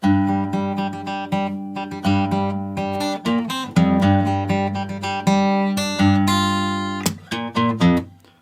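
A plucked guitar in standard tuning plays the melody of a song from Persona 5, single-line with ringing open strings, notes picked one at a time in a steady, unhurried rhythm, close and clear.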